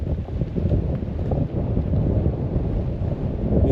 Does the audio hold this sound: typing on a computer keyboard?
no